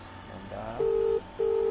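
A 3CX VoIP softphone dials a call, giving two clean steady keypad tones in quick succession after a soft rustle, close and clear with no talking.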